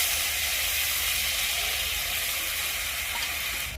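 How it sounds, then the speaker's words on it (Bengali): Meat sizzles in melted butter in a pan, a steady close hiss of frying that runs unbroken from start to finish with no voices. "এবারে আমি মাংসটাকে কষে নেব, তার জন্য কিছুটা বাটার দিয়ে দিব।"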